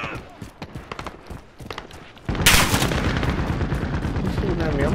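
Gunfire in the Call of Duty: Modern Warfare video game: scattered sharp shots at first, then a dense, loud, continuous burst of automatic fire from about midway, with voices talking under the early part.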